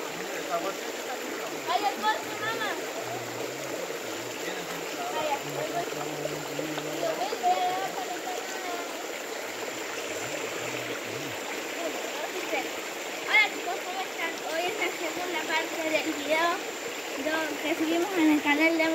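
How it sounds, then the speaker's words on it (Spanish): A river flows with a steady wash of water and occasional splashes, while people talk over it throughout. "Mira, aquí es un río que si no habíamos explorado."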